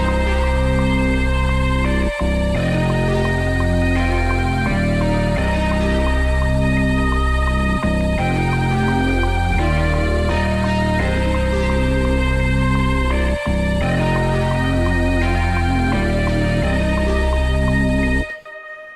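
A full beat built on a Maschine MK3 plays back loud and dense, with steady drums, bass and layered melodic parts including a vocal-style line and guitar counter melody, looping without pause until it cuts off near the end.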